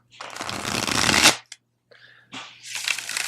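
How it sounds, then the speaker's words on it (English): A Guilded Tarot deck is riffled together in a bridge shuffle, a rapid fluttering burst, then softer taps and a second quick riffle close up. "I'm actually pleasantly surprised on how well it bridge shuffles"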